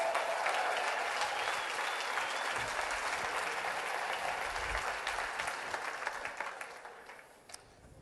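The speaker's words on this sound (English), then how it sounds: "Give them a round of applause." A crowd applauds steadily, dense clapping that holds for several seconds and then gradually fades out.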